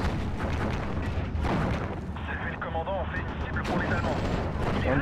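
Rifle gunfire in the WWII game Steel Division: Normandy 44, in a battle around Sainte-Mère-Église: dense, continuous crackling shots and battle noise fill the whole stretch, with voices mixed into the din.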